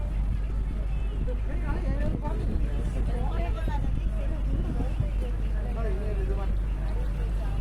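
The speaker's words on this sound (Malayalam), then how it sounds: "അപ്പോൾ ഒരു സ്പീഡ് ബോട്ട് വരുന്നുണ്ട്." A speed boat on the Alappuzha backwaters gives off a steady low motor drone that runs continuously, while people talk over it nearby.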